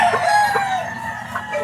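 A pure Elevator Kelso gamefowl rooster crows at a breeding area, the cry clear and fairly close with a steady farmyard background beneath it.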